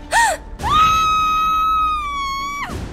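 A Fortnite character lets out a sharp gasp, then a long, sustained high-pitched scream that holds steady for about two seconds before cutting off, loud and close with no talk over it.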